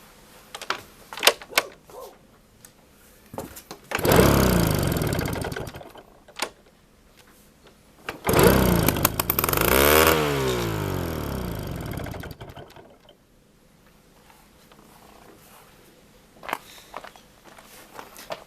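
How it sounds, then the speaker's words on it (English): The small two-stroke engine of an old Tomos Colibri T03 moped, run without its carburetor, sputters to life twice, each run lasting a few seconds with rising and falling revs, separated by quieter clicks and handling noises. "and start the engine without carburetor. So it should work about 1, 2, 3 seconds."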